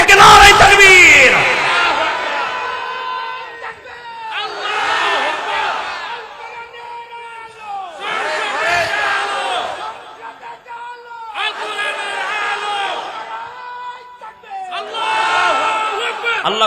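A large crowd at a religious sermon gathering chants the takbir in response, a series of loud, rhythmic group shouts repeating about every two to three seconds with brief pauses between.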